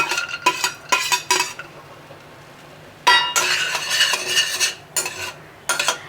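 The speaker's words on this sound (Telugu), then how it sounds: "డ్రై ఫ్రూట్స్లో తీసుకొని మెల్లగా వీటిని వేయించుకుంటే సరిపోతుంది" Dry fruits are fried in ghee in a pan. A spoon stirs and scrapes against the metal in short, clattering bursts separated by brief quiet gaps, close and fairly loud.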